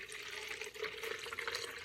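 Water pours steadily into a container, a continuous splashing, bubbling rush heard up close with no voices over it.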